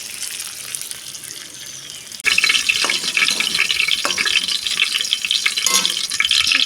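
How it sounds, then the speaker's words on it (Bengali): Two bay leaves dropped into hot oil in a home kitchen set off an abrupt, loud, steady sizzle that continues with hissing crackle, following a quieter lead-in. "দুটো তেজপাতা দিয়ে দিই।"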